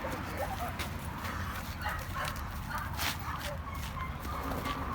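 Dog barking and whimpering on a street, with a pit bull and a Dogo Argentino present, a few short yips and whines over a noisy background while people talk nearby.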